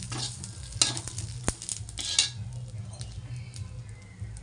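Cumin seeds sizzle and crackle in hot oil while a utensil stirs the pan, a steady close frying hiss with sharp pops and scraping clicks.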